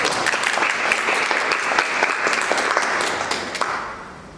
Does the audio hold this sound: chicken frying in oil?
no